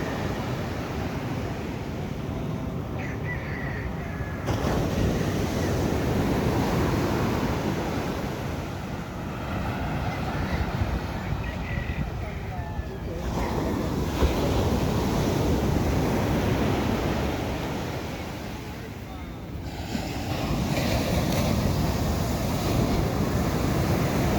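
Big ocean waves surge and wash near a small boat, a loud, continuous rushing roar mixed with gusting wind buffeting the microphone, rising and falling in broad swells across the stretch.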